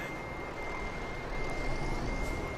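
In the Euro Truck Simulator 2 video game, a truck reverses with a steady, insistent series of high beeps over a loud engine rumble, with no one speaking.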